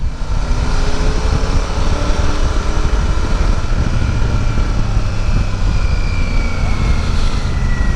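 A Royal Enfield Super Meteor 650 motorcycle being ridden, its engine a steady loud low rumble with rushing wind noise throughout.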